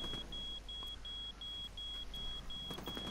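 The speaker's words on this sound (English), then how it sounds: "What's beeping here around me?" Steady electronic beeping repeats at an even pace close to the player in The Division 2, a tactical shooter game, sounding over a low rumbling game background for the whole stretch.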